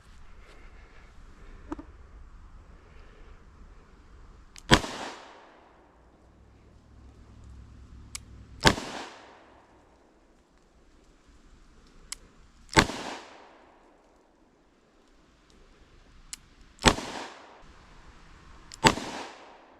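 Ruger SP101 revolver chambered in .357 Magnum fired at an outdoor range, five sharp loud reports spaced a few seconds apart, each followed by a short fading echo, with quiet gaps between.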